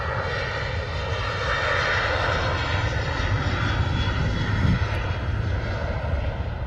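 Aircraft engine roaring steadily at Manchester Airport, a loud sustained broadband rumble filling the whole clip with no pauses, as a plane passes close by.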